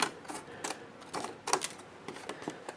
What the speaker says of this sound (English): And this stuff is so thin, you can just cut it out with scissors.